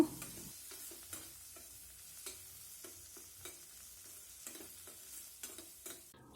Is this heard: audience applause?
no